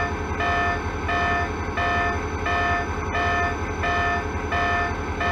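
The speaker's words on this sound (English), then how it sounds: "Here is the bell." A model SLRG E8 locomotive bell dings in a steady, even rhythm over a constant low rumble, repeating about once a second.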